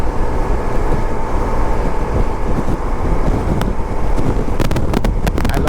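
Steady, heavy wind roar buffets the microphone while riding a 1994 Honda ST1100 touring motorcycle, loud and continuous throughout, with a few sharp clicks near the end.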